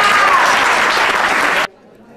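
A crowd at a 1998 lupus benefit awards reception applauds a singer and radio host, loud sustained clapping with cheering that cuts off abruptly near the end into quiet.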